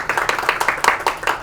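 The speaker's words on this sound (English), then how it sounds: "that applause was before the introduction" An audience at a talk on ChatGPT claps in brief, uneven bursts, a short scattering of hand claps at moderate volume.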